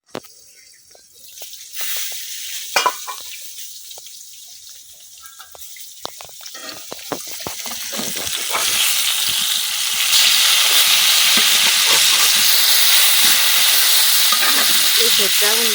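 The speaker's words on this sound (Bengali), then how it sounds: "নতুন কড়াই আর নতুন গাছের বেগুন ভাজি করতেছি" Slices of eggplant from a home-grown plant fry in a new wok. After a few clicks and stirring taps, the oil builds into a loud, steady sizzle that fills the rest of the clip.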